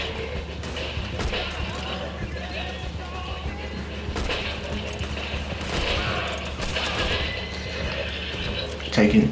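Video game gunfire crackles in rapid fusillades of rifle and automatic shots, mixed steadily with in-game noise, while a player talks over it.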